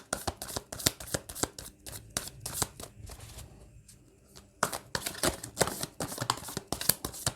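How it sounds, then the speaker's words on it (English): Tarot cards being shuffled by hand, close bursts of rapid riffling and slapping, pausing briefly midway before resuming with several more quick shuffles. "I'll shuffle again here."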